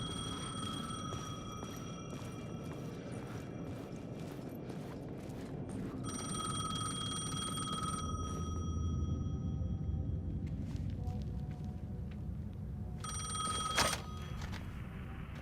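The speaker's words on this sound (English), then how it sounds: "The payphone was ringing." A payphone rings in the Alan Wake 2 video game, sounding repeated bursts of electronic ringing in a dark, quiet ambience, with pauses between rings and a low rumble underneath.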